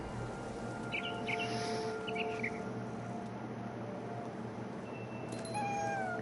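A cat meows and yowls repeatedly in What Remains of Edith Finch, several drawn-out calls near and clear over a low steady background drone, with faint bird chirps mixed in.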